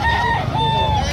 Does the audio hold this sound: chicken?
yes